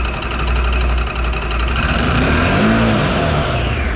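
An ODES 650 Pathcross side-by-side with an upgraded variator revs in neutral as throttle is applied, a loud, steady mechanical engine roar that climbs in pitch midway, close to the listener with no talk.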